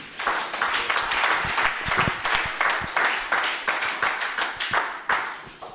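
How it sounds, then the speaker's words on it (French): A church congregation claps together for Jesus during a French sermon, a dense, loud and steady wash of hands with a pulsing, near-rhythmic beat throughout. "Applaudissons Jésus"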